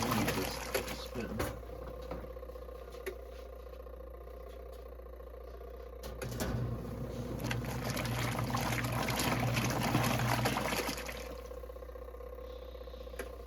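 A Kuppet portable washing machine runs with a steady motor hum, water sloshing and churning that grows louder for a few seconds and then eases, heard close by.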